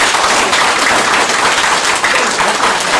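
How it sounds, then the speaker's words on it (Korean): A large crowd at a public briefing on the Gwangju–South Jeonnam administrative merger claps steadily and densely for the whole stretch, loud and continuous with no pauses. "박수 한번 쳐주십시오."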